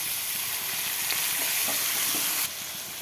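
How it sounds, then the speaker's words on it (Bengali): Ground spice paste added to frying rohu fish in a pan gives a continuous loud sizzle and hiss, with faint scraping stirs over it, the frying noise dropping slightly near the end but carrying on. "এই যে বাটা মশলাটা দিয়ে দিলাম"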